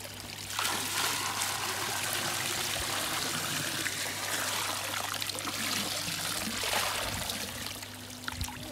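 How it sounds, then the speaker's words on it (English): Koi pond treatment being poured into the running water of a garden koi pond, a steady close trickle and stream of liquid splashing continuously into flowing water. "Let's get this in, pour it into the flow, and it'll be dispersed across and around the pond."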